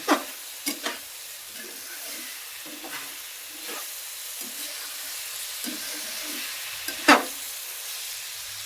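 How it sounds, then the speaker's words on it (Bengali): Sweet pumpkin frying with dried shrimp in a pan: a soft steady sizzle with several scraping stirs of a spatula at irregular intervals, one sharper clatter near the end. "আমি কিন্তু এই যে শুক্তা দিয়ে ভাজা করতেছি"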